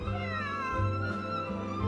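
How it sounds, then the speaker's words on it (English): A cat meows in the video game Genshin Impact, with a few drawn-out, wavering meows over a steady background hum, fairly close, and no talk. "This is my friend's cat."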